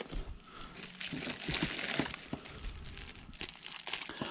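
Subwoofer packaging is opened and crinkled during an unboxing, with a soft, continuous rustle of plastic and paper handled close by, fairly quiet and without talk.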